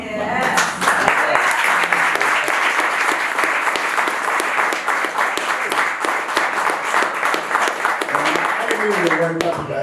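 Songwriters' awards-show audience bursts into loud, sustained applause, dense clapping filling the room steadily for about ten seconds before tapering slightly at the end.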